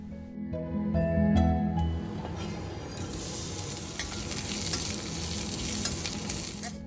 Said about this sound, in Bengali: পেঁয়াজটাও ভাজা হয়ে গেল এবার ডালটা দিয়ে দেব